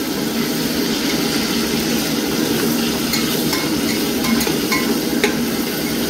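Chopped tomatoes fry and sizzle steadily in a pan for mutton curry as they are stirred, a continuous close hiss with occasional scraping clicks and no talk.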